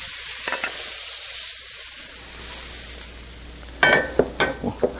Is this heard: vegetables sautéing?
yes